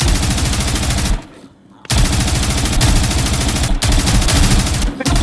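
Sustained rapid automatic gunfire rattles loudly in the Zero Hour tactical shooter, continuous bursts broken by one short pause and a couple of brief dips.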